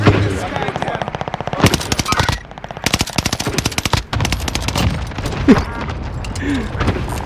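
Bursts of rapid automatic gunfire from Call of Duty Warzone rattle loudly and up close, broken by short pauses, with muffled booms and a voice in the background.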